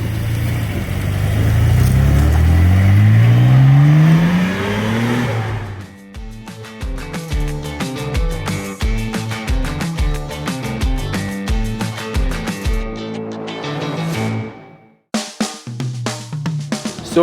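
A Nissan Skyline GT-R R33 SEMA build revs hard as it accelerates through the gears on a test drive. It sounds loud and close, with rising engine pitch and a rapid burbling, popping idle between pulls.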